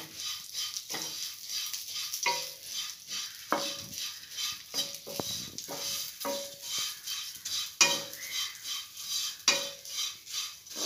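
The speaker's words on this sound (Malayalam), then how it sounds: "എന്നിട്ടിത് നല്ലപോലെ ഒന്ന് വഴറ്റിയെടുക്കാം." Ingredients for orange payasam stirred and sautéed in ghee in a pan: a soft, steady sizzle with repeated close scraping and clinking of a spoon against the metal, no voice.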